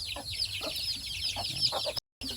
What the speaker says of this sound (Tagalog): Tapos may mga manok dito, mga sisiyo, ayan dyan.